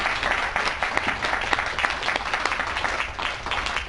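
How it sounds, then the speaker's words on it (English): A business breakfast crowd gives Steve a round of applause: dense, loud, sustained clapping from many people filling the room evenly with no voices on top. "if you could please all join me in giving him a round of applause"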